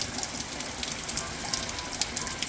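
Rain falls steadily, giving a broad, crackling patter of drops on hard surfaces with scattered sharper splashes popping out of the even wash. No voices are heard.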